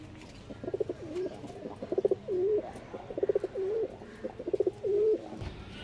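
Pigeons in a loft coo in repeated rounds, each a cluster of throaty pulses ending in a drawn-out rolling coo, close and moderately loud over faint background hum.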